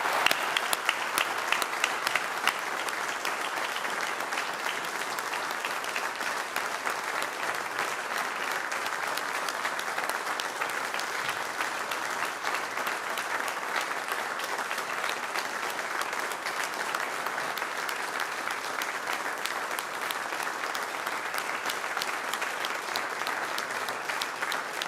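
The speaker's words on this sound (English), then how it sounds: "could we please applaud our sisters and brothers?" A conference audience stands and applauds retiring ministers, giving them a long, even round of clapping. The dense applause fills the hall steadily from start to finish, with no speech over it.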